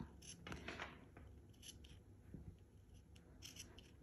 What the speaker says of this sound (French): Donc on crante avec une paire de ciseaux, mais on fait attention de ne pas dépasser la partie où on a cousu.